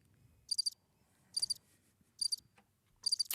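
Crickets chirp in four short, bright trilled bursts, evenly spaced and fairly close, with near silence between them and no talking.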